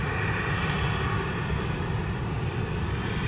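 An airplane holds at an airport runway awaiting departure, its engines giving a steady, dense droning rumble at moderate distance with no break.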